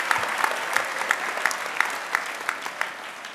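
Applause rises from the audience at a high school's senior last assembly for the Class of 2023, a steady, fairly distant wash of many hands clapping with a few sharper claps standing out, heard alone.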